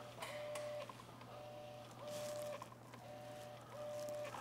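An Epson P900 printer works on a photo print with a repeating cycle of whirring carriage passes, each ending in a faint high tone, over a low steady motor hum, quiet and close, with no talking.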